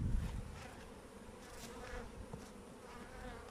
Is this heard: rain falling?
no